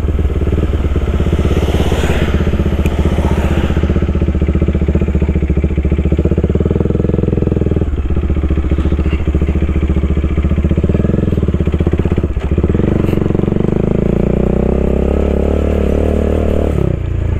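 A motorcycle on hard tyres rides off-road on a rough, bumpy track, its engine loud and close throughout, rising and falling with throttle changes over rattling clatter from the rough ground.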